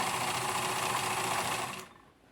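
A sewing machine stitches fabric with a steady, loud mechanical whir that runs continuously for almost two seconds, then stops abruptly into quiet.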